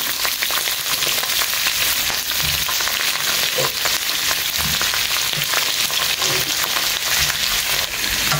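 Curry leaves, ginger and chopped onion fry in a pan with a steady, loud, hissing sizzle that runs unbroken throughout, with faint crackles scattered through it.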